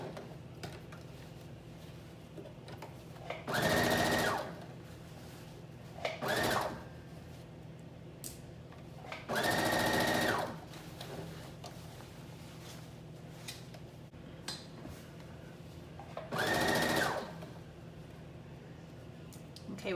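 A sewing machine stitches the seam of a flutter top in three short loud bursts separated by quiet pauses, against a low background hum.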